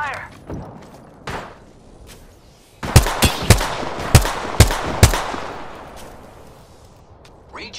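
Video game gunfire in a sci-fi shooter, a burst of sharp loud shots in a rapid cluster, then scattered single cracks further off, with a person talking over the action.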